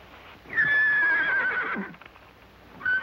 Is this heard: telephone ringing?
no